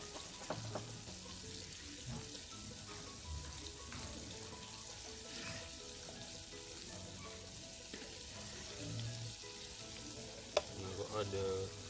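Chicken wing pieces frying in a pot of oil outdoors, a steady low bubbling sizzle with scattered clinks and stirring sounds and occasional water splashes over about twelve seconds.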